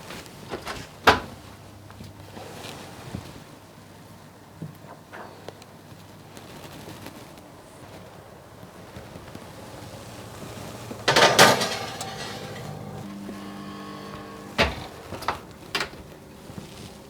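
A dish of potato gratin dauphinois slides into a kitchen oven, with sharp clinks of cookware and the clunk of the oven door closing amid quieter handling noises.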